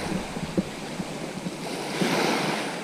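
Sea waves washing and churning at a shingle shore near Eastbourne on a summer morning, a steady broadband wash with soft surges rising toward the end, heard close with light wind on the microphone.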